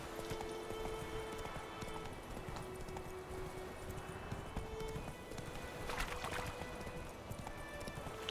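Geralt's horse Roach gallops steadily in the Witcher 3 video game, a rapid rhythmic clatter of hooves running continuously at moderate volume over faint ambient background.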